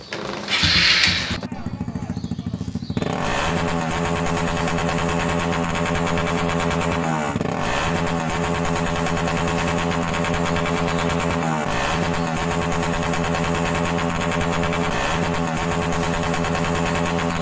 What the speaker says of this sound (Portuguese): colocando esse escapamento na minha moto